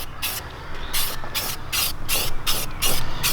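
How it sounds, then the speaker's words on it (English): Bursts of aerosol spray paint from a can, a base coat going onto a military-style mini bike part, in about six short hissing passes with brief gaps, close and fairly loud. "you really don't want to paint with your spray can pointing down like this either."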